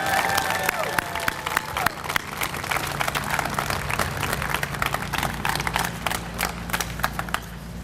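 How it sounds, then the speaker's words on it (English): A crowd at a community college system gathering breaks into sustained applause, dense clapping and a few cheers filling several seconds at steady loudness. "give each of those a round of applause"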